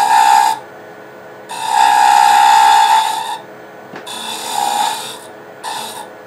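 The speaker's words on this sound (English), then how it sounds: "It's chattering a little bit because there's not a lot of support, so I'll go a little bit slower." A wood lathe takes a cut near a cone live center, with the tool chattering from weak support. Four separate bursts of harsh, buzzing cutting noise are broken by quieter gaps.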